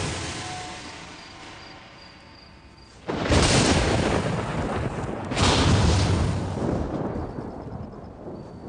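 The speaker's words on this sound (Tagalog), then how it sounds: "Bakit mayroong pulang kidlat dito sa bundok?" Thunder from red lightning on a mountain, heard as two loud, close rumbling booms that roll and slowly fade over several seconds, following a quieter low ambience, with no voices.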